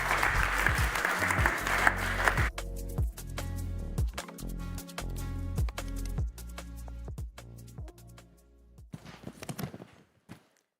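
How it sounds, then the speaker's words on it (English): Loud applause from a conference audience at an energy security panel at the Munich Security Conference pavilion, a dense roar of clapping for about two and a half seconds that breaks off into scattered thumps and shuffling. "Big round of applause for you guys."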